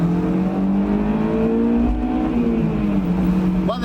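A Honda S2000 sports car drives under steady load, its engine note heard from inside as a loud, continuous drone that rises and falls slightly in pitch, with no talk.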